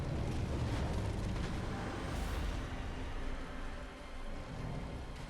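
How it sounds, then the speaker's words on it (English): A boss's explosion attack in the video game Bloodborne, a loud, sustained rumbling blast that roars for several seconds and eases slightly toward the end, with no speech. "He's gonna do the explosion"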